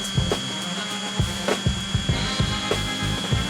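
A DeWalt DEW 6421 5-inch orbital sander with a 3-amp motor runs steadily on wood, giving a continuous close whir with repeated short scraping bumps as the pad moves across the surface.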